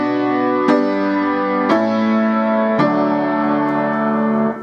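A keyboard plays a chord with an added sixth, struck four times in a slow, even rhythm, each loud attack ringing and sustaining clearly on its own before the next.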